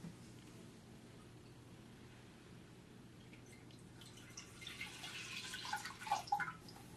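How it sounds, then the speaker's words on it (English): Two cups of milk are poured into a medium saucepan, a faint, steady liquid trickle that grows a little louder and more splashy toward the end, with small droplet plinks. "Take those 2 cups of milk and pour it into a medium saucepan"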